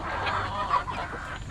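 Chickens with a respiratory illness clucking and murmuring close by, a steady busy flock sound with a brief sharper call in the middle.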